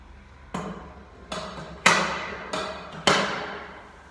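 A Prowler sled being pushed up and down a training track gives five sharp, loud metallic clanks at fairly even intervals, each ringing briefly before fading, with no talking.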